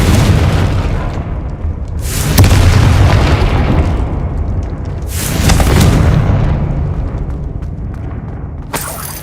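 A Confringo fire spell explodes in a Harry Potter video game: loud, heavy booms with a cracking burst on each hit, followed by a rumbling decay and a sharp final blast. No one speaks.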